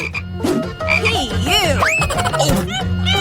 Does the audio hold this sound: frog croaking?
yes